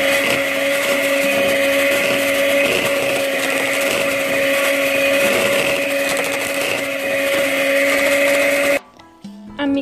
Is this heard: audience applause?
no